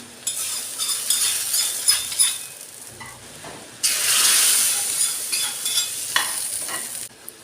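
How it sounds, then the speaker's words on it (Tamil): Tempered onion, mustard seeds and urad dal tipped into a bubbling ridge gourd kootu, loud scraping and stirring knocks first, then a bright burst of sizzling that settles into steady frying with a few utensil clinks. "இப்போ வந்து நம்ம தாளிச்சிருக்கிற வெங்காயம் கடுகு உளுந்த சேர்த்துக்கலாம்"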